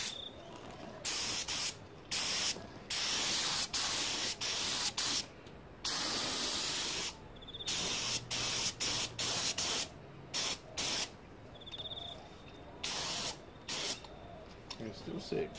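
A spray gun laying high-fill primer on a panel of an XC Ford Fairmont GXL under restoration, loud close hissing bursts of a few seconds each, repeated in an irregular on-off rhythm.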